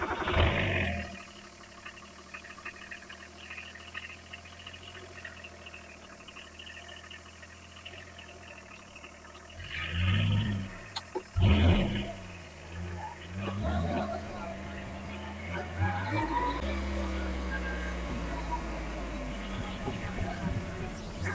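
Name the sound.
Kubota tractor engine running during a test drive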